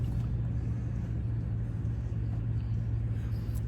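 A front end loader rumbles along in four-wheel high with a low, steady engine drone and a constant hum, heard close up with no talking.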